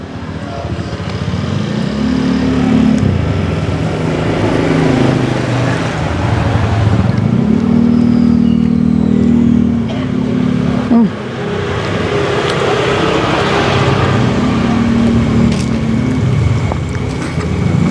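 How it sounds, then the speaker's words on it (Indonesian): A car rolls past on the street beside a satay stall serving Sate Bu Ngantuk; its loud engine drone swells and fades as it passes close, over steady background street noise, with no talk. "Awas mobil."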